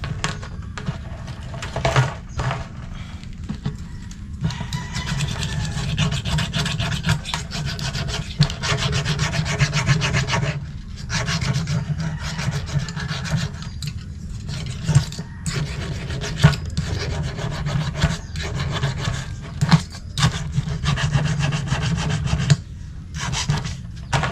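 Hand file sharpening a metal blade, steady repeated rasping strokes in a continuous back-and-forth rhythm, close and fairly loud with no talk.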